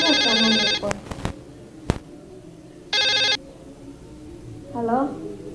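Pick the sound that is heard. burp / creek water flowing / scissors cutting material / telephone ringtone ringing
telephone ringtone ringing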